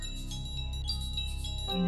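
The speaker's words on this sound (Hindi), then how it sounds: "किरण का फोन है" Mobile phone ringtone for an incoming call, a short melodic electronic ring with repeating tones, moderately loud and alone with no voices.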